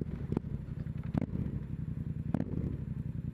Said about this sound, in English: you've got a Yoshimura exhaust on this, full system